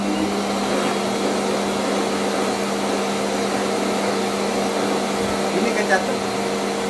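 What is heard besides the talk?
pet blower dryer drying a cat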